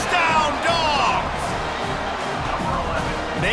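A stadium crowd roars and cheers after a touchdown in the college football video game College Football 25, a loud sustained swell heard under a commentator's voice across a few seconds.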